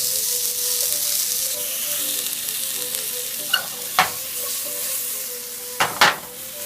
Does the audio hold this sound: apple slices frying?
yes